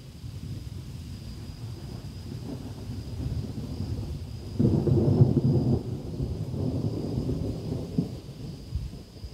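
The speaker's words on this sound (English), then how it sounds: "Ironically, we're hearing all the thunder and lightning." Thunder during a storm, heard outdoors as a low, distant rumble that swells midway and rolls on, with wind noise on the microphone and a steady high insect-like hum.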